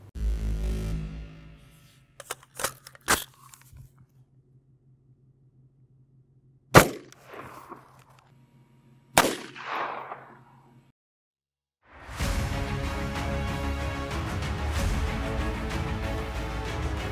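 Suppressed subsonic .223 110-grain rifle rounds fired from a 16-inch barrel into ballistic gelatin at an outdoor range: several sharp, fairly quiet cracks spaced a few seconds apart, followed by a broad rumbling noise.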